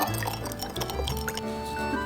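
A spoon stirs a small bowl of sauce made from lemon juice, sugar and salt, giving soft liquid sloshing and light clinks against the dish, close and fairly quiet.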